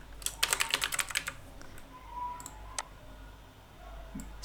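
Fast bursts of close keystrokes on a computer keyboard, a quick run of clicks followed by a few isolated taps over a quiet background.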